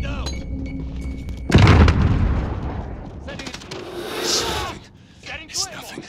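A grenade goes off in Call of Duty Modern Warfare with a sudden loud, close boom and a rolling low rumble that fades, amid combat noise and in-game voices.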